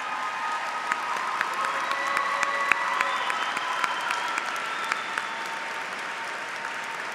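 A large audience at a high school graduation ceremony claps steadily for graduates joining the military, a broad, sustained wash of applause with a few faint cheers mixed in.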